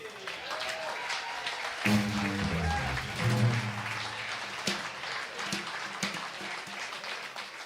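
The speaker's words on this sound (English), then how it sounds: "I don't know why you clap." Concert audience applauding at a jazz show, a long steady roll of many hands from a crowd, moderate in level with a lingering voice and a brief instrumental tone within it.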